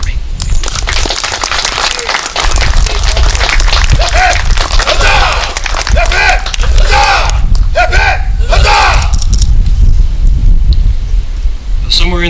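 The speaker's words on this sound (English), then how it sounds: "Would you please join me in a round of applause to recognize these young Americans" An outdoor audience at a commemoration ceremony applauds new young Army recruits, a loud, dense, steady wash of clapping that tapers off near the end while voices are heard in the crowd.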